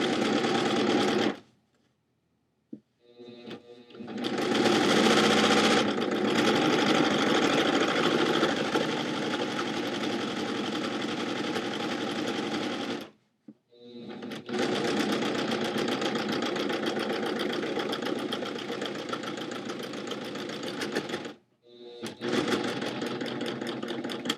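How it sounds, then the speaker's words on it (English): A serger sewing machine runs at a fast, steady hum while cutting and overlocking the hem edge of jeans, in three long runs separated by brief pauses. "See, that's why people use sergers. It's cutting the fabric and sewing at the same time."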